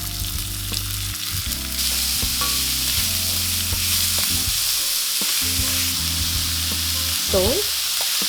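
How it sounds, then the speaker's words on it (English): Onions frying in a pan with garlic and ginger for a chickpea curry, a loud continuous sizzle under steady stirring, with a voice speaking briefly over it. "constantly stir until onions are caramelized and golden for about 8 to 10 minutes"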